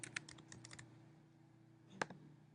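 Quick bursts of keystrokes on a computer keyboard, a rapid cluster of clicks followed by a pause and a few more taps, faint and close.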